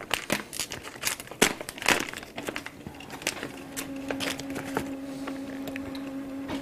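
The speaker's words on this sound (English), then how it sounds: "I'm going to open this package here." Plastic packaging around a printer print head is torn and crinkled open in a series of irregular crackles and snaps, with a steady mechanical hum from the running printer rising beneath.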